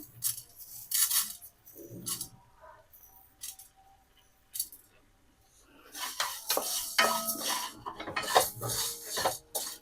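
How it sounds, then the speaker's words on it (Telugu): Fenugreek seeds dry-roast in a pan for a prawn pickle, heard as irregular metallic clinks and scraping stirs of a utensil against the pan, with a faint crackle and busier clattering near the end. "వీటి డ్రై రోస్ట్ చేసుకుందాం ఇవి కూడా ఉడుకుతూ ఉంటాయి"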